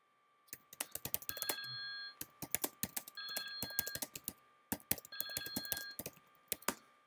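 A live chat notification ringtone on a library chat system repeats in three short bursts in the background, mixed with steady close computer keyboard typing, no voices.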